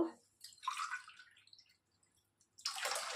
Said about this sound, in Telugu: 4 గ్లాసెస్ వాటర్ని వేసుకున్నాను కదా